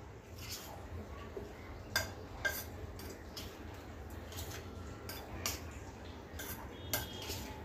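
Moong dal cheela batter is mixed in a bowl, a quiet, steady run of spoon clinks and taps against the bowl over a faint hum, with no talking.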